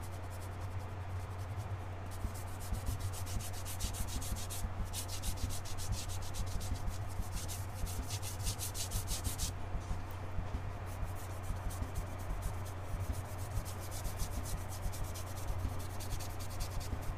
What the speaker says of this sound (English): it's almost like I'm just rubbing it off or cleaning my brush a bit